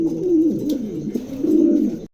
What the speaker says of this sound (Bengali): দেখেন চমৎকার কবুতর দুটা দুটো কবুতরই মার্শাল্লাহ দেখার মতন কবুতর